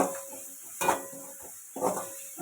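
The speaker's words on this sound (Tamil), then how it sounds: "வெங்காயம் நல்லா வதங்கிட்டு இருக்கு. இன்னும் கொஞ்சம் வதங்கினோடனே குடமிளகா போட்டுருக்கேன்." Onion and capsicum sautéing in a pan, soft and fairly faint, with two brief stirring scrapes breaking a quiet, low sizzle.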